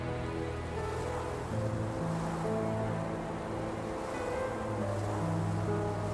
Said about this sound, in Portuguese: Ondinhas no mar se agitam.